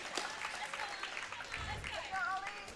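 A crowd at a novice weightlifting competition claps and cheers for a lifter attempting a squat, a busy wash of applause and shouts under a commentator's talk.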